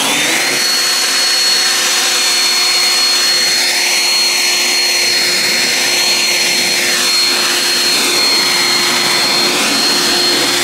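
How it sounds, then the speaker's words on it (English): A leaf blower blowing water off a car roars loudly and continuously at close range, a steady rushing whoosh with a faint high whine throughout. "you can use like a leaf blower like this to blow off the water easily"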